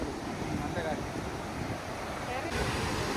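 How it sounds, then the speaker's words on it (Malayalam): A strong sea wind buffets the shore while rough monsoon waves surge in, making a continuous loud roar of wind and surf, close and steady, with a speaking voice partly mixed in. "നല്ല ശക്തിക്ക് കടൽ വരുന്നുണ്ട്"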